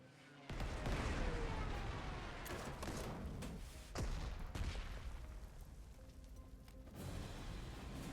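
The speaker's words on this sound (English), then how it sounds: "And we could just bomb this artillery piece." An artillery piece is bombed in the Panzer Corps 2 war strategy game, producing a quick run of rumbling blasts and booms. The blasts are fairly faint and come in uneven bursts.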